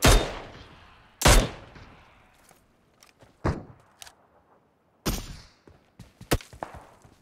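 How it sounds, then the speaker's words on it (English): Gunfire in the PUBG Mobile game, a few loud sharp shots spaced across a second or two, then quieter scattered cracks and thuds with another close burst of rapid shots near the end, separated by near silence. "He keeps shooting me."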